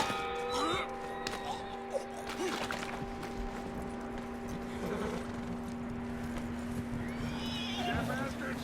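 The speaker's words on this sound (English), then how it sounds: "That looks like a decent horse." A horse in the video game Red Dead Redemption 2 neighs and whinnies while its hooves clip-clop, over a steady outdoor background hum, with a few sharp hoof strikes and a second whinny near the end.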